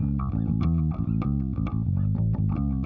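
A clean, dry bass guitar recorded direct input plays a short melodic line of plucked notes, close and unadorned, with no effects.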